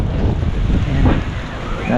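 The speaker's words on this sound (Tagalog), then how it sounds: "Hangin" Steady gusty wind buffets the microphone with a low rumbling roar, broad and continuous throughout with slight swells.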